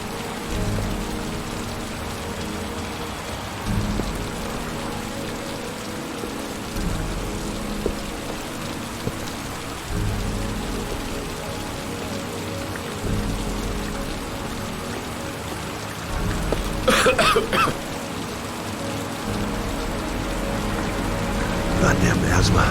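Heavy rain pours steadily throughout, with low rumbles of thunder rolling in the background and a sharper crackle near the end.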